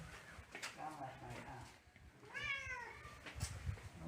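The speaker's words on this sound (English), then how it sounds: "Nice cat." A female house cat in a home in the Philippines gives a short, rising-and-falling meow near the middle, close by, while people talk around it.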